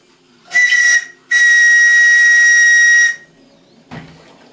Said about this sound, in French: J'ai installé le sifflet sur Resolve.